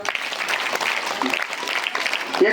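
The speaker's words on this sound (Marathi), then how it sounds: "टाळ्या वाजवा." Audience applauding at a speech event at a model public school, steady dense clapping from a crowd with no pauses throughout.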